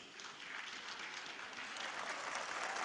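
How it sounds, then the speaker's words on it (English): An audience at an aviation ceremony in Nigeria clapping in a warm round of applause, a faint, distant, even wash of many hands sustained throughout. "A warm round of applause for all of them."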